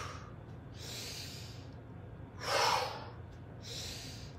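A deep inhalation during a movement exercise: soft, close breathing that swells into one audible in-breath midway, then eases off, quiet and alone.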